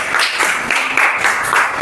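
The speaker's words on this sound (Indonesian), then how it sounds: "Oke, tepuk tangan." Short burst of students clapping together in a school classroom, a quick patter of hands with a few louder rhythmic claps, close and moderate in volume.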